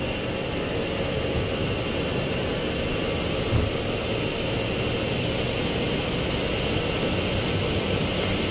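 An Iberia Airbus A320's engines roar steadily at takeoff power on the runway, a loud, constant broadband rumble and hiss heard from the cockpit with no speech over it.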